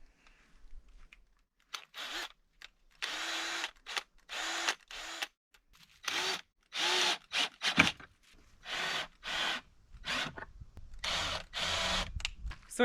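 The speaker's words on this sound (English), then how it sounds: "I'm going to remove the screw, and then I'm going to turn it and put it on the inside, and then screw the cap down like so." A power drill drives a screw into a PVC pipe cap, heard as a series of short, loud whirring bursts separated by brief pauses, close by.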